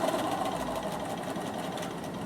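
A Bernina sewing machine top stitching runs with a steady, close mechanical whir and rapid needle hum throughout, with no talking.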